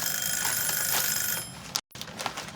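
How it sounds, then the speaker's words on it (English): A kitchen timer at home rings in a steady high-pitched trill for about a second and a half, then stops abruptly. Faint room noise follows. "That was the timer."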